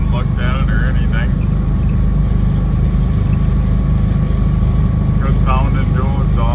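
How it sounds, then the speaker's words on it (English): Engine of a 1963 Oldsmobile Cutlass F85 with dual exhaust, a steady low rumble continuing loud and unbroken while people talk over it at the start and end. "Good sounding dual exhaust."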